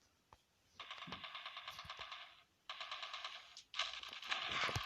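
Automatic gunfire in Call of Duty Mobile comes in three long rapid bursts separated by short gaps, and the last burst is the loudest, with no talk over it.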